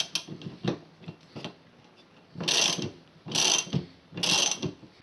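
A ratchet turning a 13mm nut on a VW Golf rear wiper arm gives a few soft clicks, then three louder bursts of rapid close clicking with short pauses between them.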